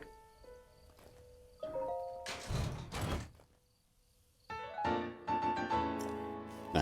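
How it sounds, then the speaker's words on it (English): A treasure chest opens in The Legend of Zelda: Breath of the Wild, a creaking, scraping lid with a couple of heavy thumps, followed by a bright chiming musical flourish, with no talking. "I'm gonna grab this chest and hope I don't get shot"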